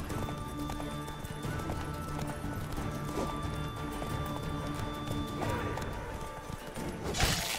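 Geralt's horse Roach gallops in The Witcher 3, rapid hoofbeats pounding continuously with a whinny and a crash near the end, over game background sound.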